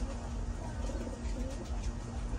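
Young racing pigeons coo softly in a loft, a low repeated warbling tone heard close by over a busy, rustling background.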